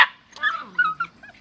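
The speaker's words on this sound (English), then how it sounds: "they're going to stand here and bark at me the whole time" Standard Schnoodle puppies bark and yip close by in short high-pitched bursts, a few quick yaps with whiny tails, loud and alone.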